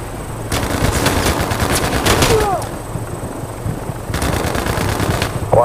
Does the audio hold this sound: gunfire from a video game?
yes